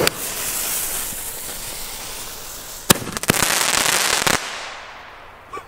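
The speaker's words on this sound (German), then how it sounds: "Zünd an den Knaller." A hissing fuse sputters, then a firecracker goes off in a burst of sharp crackling pops before fading to quiet.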